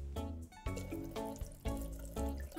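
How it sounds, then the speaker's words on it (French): A toothbrush is rinsed under a running bathroom tap in a children's TV scene, with uneven splashing bursts of water against the sink. "Je rince ma brosse à dents."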